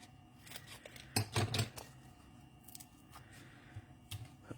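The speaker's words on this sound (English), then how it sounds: "And let's cut another end off here. Snip it right there." Scissors snipping paper for a Christmas card, a few quick soft cuts close by, faint and brief against a quiet room.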